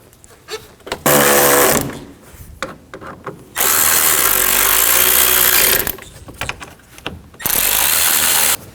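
A power driver fastens screws on a Chevy Traverse parking light assembly, three loud sustained whirring bursts of a second or two each, separated by quiet pauses and small handling clicks.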